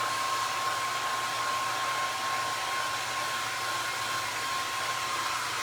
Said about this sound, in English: Just what everybody wants to do is listen to a hairdryer going.